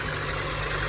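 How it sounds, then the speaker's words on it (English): A car engine idles fast with the choke pulled out, giving a steady close rumble with an even, unbroken drone. "it's idling fast because the choke's out"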